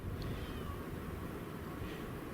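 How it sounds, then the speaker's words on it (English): A cat meows in an outdoor village setting near a harbor, a faint short call or two set against a steady, loud background rumble. "You meowing at me?"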